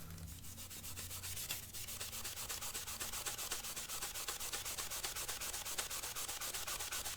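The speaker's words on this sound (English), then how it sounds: "Let's try the magic eraser." A magic eraser scrubs the shell of a smoke-damaged Game Boy in steady, rapid back-and-forth rubbing strokes, close and continuous throughout with no talking.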